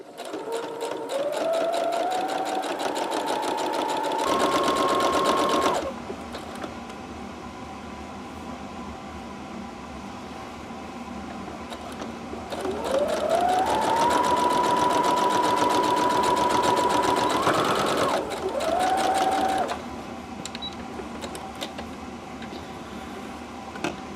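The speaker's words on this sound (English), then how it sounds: "it's time to sew the Burrito Pillowcase from selvage to selvage" A sewing machine stitches a burrito-style pillowcase with a French seam from selvage to selvage, the close motor whine ramping up in pitch through two long runs separated by a quieter lull.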